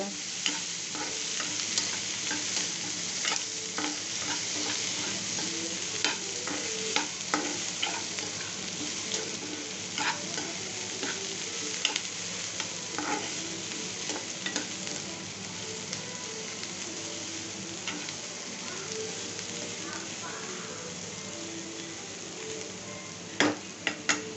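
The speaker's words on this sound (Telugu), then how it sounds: "వెజిటేబుల్స్ బాగా వేగనిద్దాం క్యారెట్ బీన్స్" Carrots and beans fry in a pan while being stirred, with a continuous bright sizzle and scattered scrapes and ticks of the spatula against the pan throughout.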